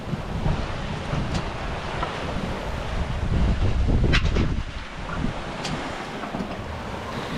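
Strong wind buffets and roars past a sailboat at sea, with waves surging alongside, a continuous rushing gust noise that swells and eases without talk.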